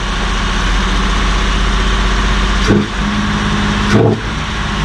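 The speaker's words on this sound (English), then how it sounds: "Maybe that's what straight sixes sound like. Sounds fine to me. She's idling down pretty good." A Datsun 280Z straight-six engine with a four-barrel carburetor idles steadily with a low, rumbling drone, briefly dipping twice as the revs stumble before settling back.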